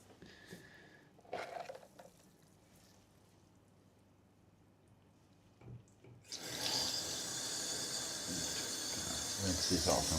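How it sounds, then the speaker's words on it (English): Tap water runs into a sink to rinse small items, beginning as a steady loud gush after a few quiet handling knocks, with a person speaking briefly over the start. "Rinse these off in water."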